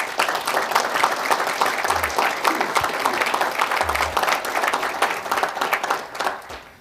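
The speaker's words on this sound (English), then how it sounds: "give a quick round of applause to Mike and his credit team for a fabulous job this last year" Steady applause and clapping from a crowd at a sales kickoff event, honoring a credit team; even, continuous and fairly loud throughout.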